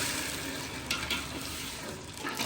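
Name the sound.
stirring sugar and water into syrup in a pot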